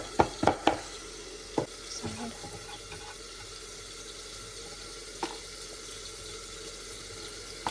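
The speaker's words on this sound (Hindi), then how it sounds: "इसमें मैं डालूँगी ग्रीन चिलीज़" Green chilies dropped into a hot cooking pot give a few sharp clatters at the start, then a low steady sizzle carries on with occasional clinks, close by and fairly quiet, with no talking.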